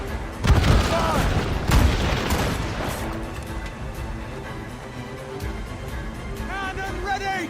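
Naval cannons fire in the Assassin's Creed Rogue ship battle, a few heavy booms early on under a dense wash of battle noise and faint shouted voices.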